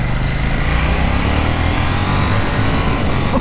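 KTM 790 Duke motorcycle ridden on wet roads, its engine droning steadily with loud, constant wind and road roar throughout, no speech.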